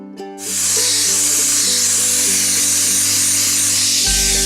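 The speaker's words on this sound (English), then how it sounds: "I started sanding this" Sanding filler on a cracked car bumper during a SMART repair, a steady loud abrasive hiss with a whirring power-tool tone running continuously, then stopping abruptly near the end.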